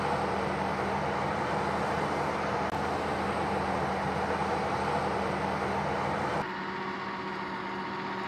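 A 970-horsepower forage harvester chops maize for silage and blows it up the chute into trailers, a loud steady mechanical roar with a constant hum that drops abruptly in intensity near the end.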